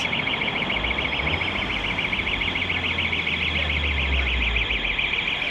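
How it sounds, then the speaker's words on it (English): A loud building alarm in a Blackpool street blares steadily with a continuous warbling electronic tone, unbroken and close for the whole stretch. "but it's a very loud alarm, isn't it?"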